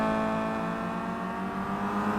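Race car engines from the Simraceway game's 2011 WTCC race, a sustained loud tonal whine that shifts slightly in pitch as the cars brake hard into a corner, close and continuous with no talk.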